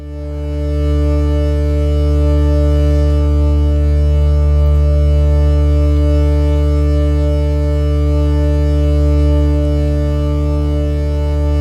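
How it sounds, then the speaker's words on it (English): A Reverse Sawtooth synth pad holds a steady, sustained chord over a deep bass line, loud and even throughout with no voices. "I opted for a pad called Reverse Sawtooth"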